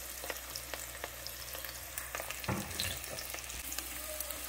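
Breaded, egg-dipped asparagus spears fry in hot oil with a steady bubbling sizzle and small crackles, close and continuous throughout.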